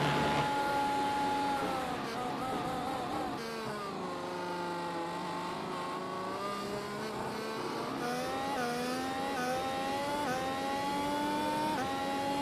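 A race car engine screams at high revs in the iRacing sim at Suzuka Circuit, the pitch rising and dipping through gear changes and throttle lifts, loud and continuous with no talk.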